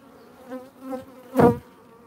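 Honeybees hum with a steady, close buzz during a hive inspection among drone cells, with the droning swelling briefly and then peaking in one loud surge as a bee passes near.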